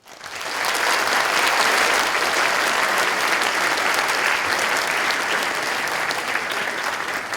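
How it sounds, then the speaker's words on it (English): Conference audience applause fills the room, a dense and steady wash of clapping from a large crowd, rising quickly and holding loud with no break for several seconds. "Please let's have a big round of applause for Venkat Subramaniam."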